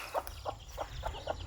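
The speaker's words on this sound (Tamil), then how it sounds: "நமக்கு முன்னே கோழி கூட்டம், தாய்க்கோழி குஞ்சு கோழிங்களெல்லாம் கூட்டிகிட்டு போகுது." A mother hen out walking with her chicks gives five soft, evenly spaced clucks, fairly faint against quiet outdoor background noise.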